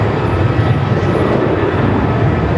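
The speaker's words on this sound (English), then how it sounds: "the Jetstar Dreamliner, Jetstar 7 going to Singapore today" Jetstar Boeing 787 Dreamliner at Melbourne Airport, a loud steady broadband engine roar that holds evenly throughout without breaks, like a jet passing close by.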